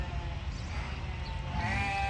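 Several sheep bleat on a knitting and yarn-making farm, a steady mix of calls close by and over a continuous background noise.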